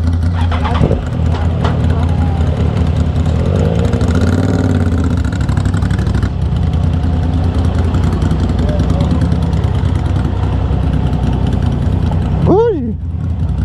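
A motorcycle engine idles with a steady mid-pitched throb, close by, while a voice talks intermittently over it.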